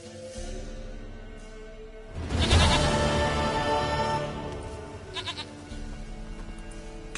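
A goat in The Witcher 3 bleats in drawn-out, wavering calls, first softly, then a louder burst with a rough, shaky quiver, trailing into quieter bleats near the end, with nothing else heard alongside.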